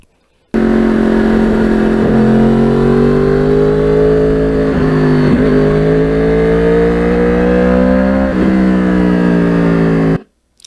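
A 2009 Yamaha R1 crossplane motorcycle ridden on roads near Picatinny Arsenal gives a loud, continuous engine drone that slowly climbs in pitch, broken by several brief dips like gear shifts, with no voices.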